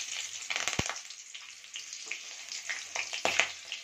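Green chillies, halved, and whole red chillies dropped into hot oil for a pumpkin sabzi, giving a steady close sizzle and crackle with a sharp spattering pop near the start.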